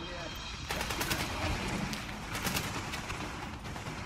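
Enemy gunfire in The Division video game, fairly quiet machine-gun bursts and scattered shots at mid distance, with chirping ambient sounds underneath.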